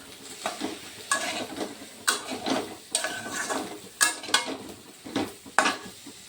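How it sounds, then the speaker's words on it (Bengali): Potato and cauliflower pieces sauté with cooked-down spices in a pan, a spatula scraping and turning them in rhythmic strokes about once a second, each stroke bringing a short burst of sizzle over a low background crackle. "আলু কপিগুলো দিয়ে আবার একটু কষিয়ে নেব"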